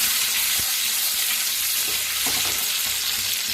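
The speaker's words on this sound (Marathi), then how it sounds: "आता फ्राय करून घ्यायचे अंडी" Eggs fry in a pan in a masala egg recipe, giving a steady broadband sizzle with a few soft clinks and stirring sounds, close and even throughout.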